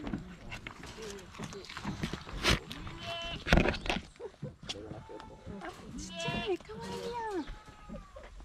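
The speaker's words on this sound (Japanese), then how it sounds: "かわいい小ヤギさん" Young goats bleat repeatedly at a goat farm in Itoshima, with several wavering calls near and far amid farm bustle and people chattering.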